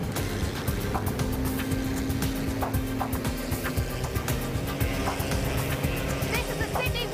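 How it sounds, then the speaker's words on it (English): A stolen hovercraft's engine roars continuously during a water police pursuit on the harbour, a loud, steady motor drone with splashing and clattering layered on top. "we've just spotted the stolen hovercraft and are in pursuit"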